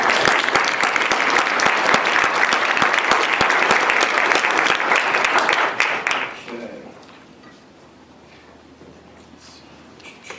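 Audience applause welcoming a speaker onto the stage at the ANJEE 2015 conference: a dense, sustained burst of clapping from a full room that holds steady for about six seconds, then quickly fades to quiet room tone.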